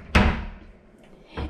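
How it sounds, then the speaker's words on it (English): A small room service door in a Live Aqua Punta Cana garden view hotel room swings shut with a loud, close thud, followed a moment later by a second, softer knock of the door settling. "this little door connects to outside"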